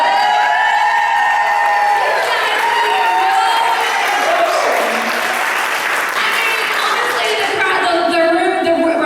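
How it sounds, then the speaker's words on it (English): A crowd cheers, whoops and applauds loudly at a leadership academy session, a dense continuous roar of clapping and shouting filling the whole stretch. "The crowd goes wild."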